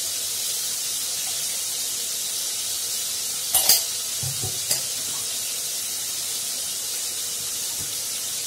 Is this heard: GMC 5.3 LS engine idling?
no